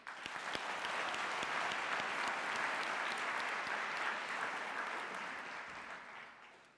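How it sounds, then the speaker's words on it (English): Applause from the audience at a University of South Africa autumn graduation ceremony, a full, even roar of many hands clapping that swells quickly and tapers slowly at the end. "I believe Professor Chelele deserves a full round of applause."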